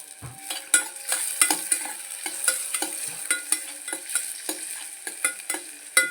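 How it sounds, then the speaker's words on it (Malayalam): Onions frying in ghee in a pan for ghee rice, a continuous hissing sizzle punctuated by frequent spatula stirring clicks, close and fairly loud, with no voices. "പിന്നെ നമുക്ക് നെയ്യ് ഒഴിച്ചു കൊടുക്കാം ഈ ഉള്ളി വാടാനുള്ള നെയ്യ് മതി"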